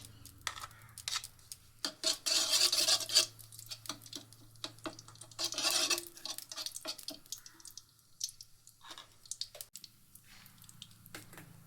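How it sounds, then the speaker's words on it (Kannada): Dry fruits frying in ghee and being stirred in a pan, with a soft crackle, scraping and clicking of the spoon in bursts and some quieter stirring near the end. "ನಾನು ಈ ತುಪ್ಪದಲ್ಲಿ ಡ್ರೈ ಫ್ರೂಟನ್ನು ಎಲ್ಲ ಫ್ರೈ ಮಾಡ್ಕೊಳ್ತೀನಿ"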